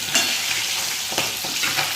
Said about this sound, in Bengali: এদিকে আমার পটলটা মশলা দিয়ে কষা হচ্ছে।